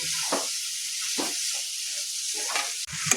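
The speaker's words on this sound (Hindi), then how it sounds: "एकरो 4-5 मिनट बढ़िया जकाँ मिला के भूज देबै" Bottle gourd (lauki) sabzi fried in a pan, with a steady loud sizzle and hiss broken by scraping stirs and a sharp clatter near the end.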